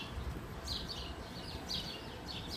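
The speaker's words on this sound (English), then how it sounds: "Are you listening to the birds chirping?" Faint, high chirps from small birds repeat in short bursts over a quiet, low background rumble.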